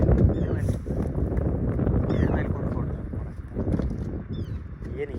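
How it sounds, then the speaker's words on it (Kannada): Strong outdoor wind batters the microphone with a loud, continuous low rumble and gusts throughout, while people speak faintly beneath it. "ಗಾಳಿನೇ ಹೆಂಗೈತೆ ನೋಡ್ರಿ ಗಾಳಿನೂ ಭಾಳ ಜಾಸ್ತಿ ಐತಿ ಇಲ್ಲಿ"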